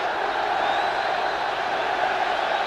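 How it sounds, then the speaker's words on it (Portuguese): A large Corinthians crowd at a São Paulo versus Corinthians football match applauds Kleber as he leaves the pitch, a steady distant roar of clapping and voices filling the stadium without pause. "Kleber sendo aplaudido pela torcida do Corinthians enquanto sai."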